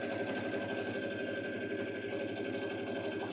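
A sewing machine stitches steadily through a baby quilt, its fast even needle rhythm humming close and unbroken with no voices.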